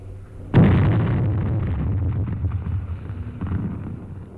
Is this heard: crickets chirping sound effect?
no